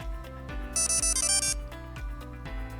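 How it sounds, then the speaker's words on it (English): A SenseCAP T1000 tracker's buzzer plays a short, bright melodic ring after joining a network, the notes pulsing in a rapid pattern over a soft background of rhythmic tones. "followed by a successful buzzer ring and LED quick flash."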